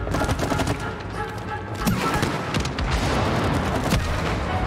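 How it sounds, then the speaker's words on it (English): Enemy nests blowing up in the co-op game It Takes Two, a dense, continuous burst of explosive crackles and booms with layered impacts, loud and close, with no voices over it. "they explode when you get close to them"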